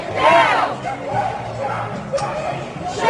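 A protest crowd outside the White House in Washington shouts and yells at night. Voices rise in a loud burst and then settle into a continuous rumble of shouting, with scattered louder cries.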